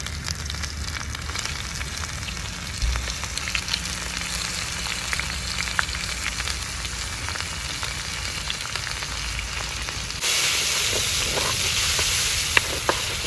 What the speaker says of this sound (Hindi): प्याज हमारा ब्राउन हो चुका है, तो अब इसके अंदर हम टमाटर काट लेते हैं, वो डालते हैं इसके अंदर।